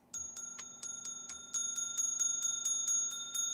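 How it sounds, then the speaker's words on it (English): Repeated bright strikes of a small bell ring out in a steady rhythm, roughly a dozen clear metallic dings with sustained tones, close and fairly loud with no talking. "Let me ring this bell."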